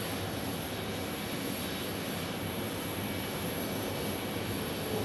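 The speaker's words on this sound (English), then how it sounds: "there's Southwest Airlines Max 8." Southwest Airlines Boeing 737 Max 8 jet at Phoenix Sky Harbor airport, a steady, distant broadband engine roar with a faint high whine, continuous and fairly quiet, no voices.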